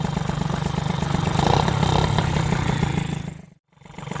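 A Yamaha SPX/RCX motorcycle engine idling at low revs, around 1400 rpm, with a steady throbbing pulse and mechanical clatter close by, briefly cutting to near silence before the idle resumes.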